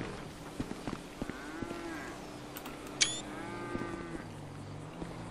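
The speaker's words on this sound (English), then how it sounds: "The cows are getting out." Cows moo in the video game GTA 5, several drawn-out lowing calls at moderate distance with a few clopping sounds and a short high squeal in between, no speech.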